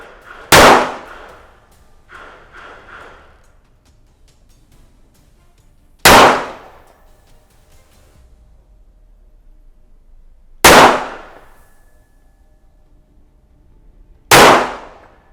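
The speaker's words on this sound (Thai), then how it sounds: "เริ่มยิง" Four loud, sharp gunshots from an Armscor .45 1911 pistol fired at 10 yards on a range, spaced several seconds apart, each with a brief echoing decay and quiet handling between.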